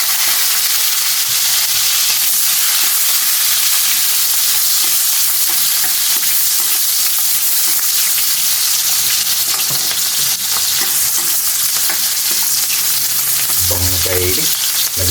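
Garlic and onions sautéing in a pan for a pork dish give off a loud, continuous hiss and crackle up close, with spoon scrapes and stirring clatter toward the end and no voices.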